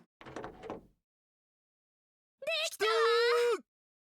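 A door opens in the Steins;Gate 0 visual novel: a short scraping rumble, a pause, then a loud bright tonal groan-like burst that rings steadily for about a second before cutting off. No one speaks.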